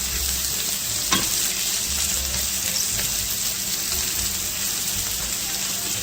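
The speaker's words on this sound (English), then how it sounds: "And I'm constantly stirring because I don't want to burn the onions, right?" Onions sautéing in olive oil for a broccoli casserole, giving a steady, dense sizzle with a soft stirring scrape now and then, close and continuous throughout.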